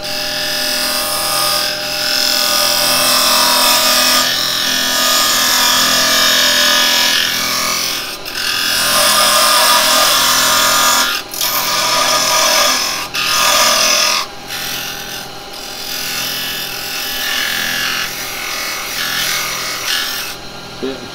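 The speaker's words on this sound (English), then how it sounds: "I'm gonna part in a little bit deeper now." Carbide chisel parting into spinning wood on a lathe, a loud continuous scraping and cutting roar with brief dips and short pauses as the tool is eased in deeper.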